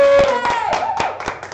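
Scattered claps from a small game show audience voting by applause, coming as a handful of distinct, fairly close hand claps alongside a brief tonal, voice-like sound.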